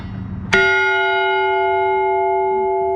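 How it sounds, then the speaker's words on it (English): An old cast bell made in 1885 by Henry McShane of Baltimore, Maryland, is struck once and rings loud and close, with a bright clang that settles into a clear, sustained ringing tone fading only slightly over three seconds. "By the way, check out this bell."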